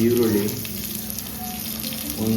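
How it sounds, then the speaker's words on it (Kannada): Onion and green chillies frying in a pan over a low flame, giving a steady close sizzle that runs through the whole short stretch with faint watery crackle and no talk. "3-4 ಮೆಣಸಿನ್ಕಾಯಿ, ಹಸಿಮೆಣಸಿನ್ಕಾಯಿ ಇಷ್ಟು ಹಾಕೊಂಡು ಫ್ರೈ ಮಾಡ್ಕೊಳ್ಳಿ"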